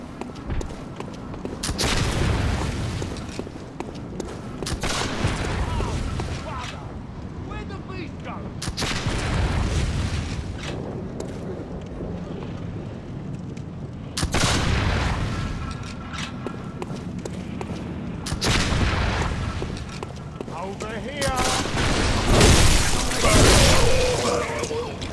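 Enemy rifle gunfire in the video game Bloodborne: several loud, booming shots at irregular intervals, each ringing out over a constant rumbling game ambience.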